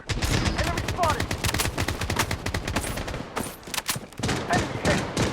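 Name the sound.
gunfire in the video game Blood Strike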